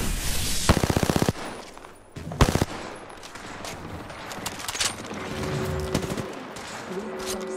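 Rapid automatic gunfire in Apex Legends, with close, loud bursts early on followed by steady crackling shots and distant firing that keep going throughout.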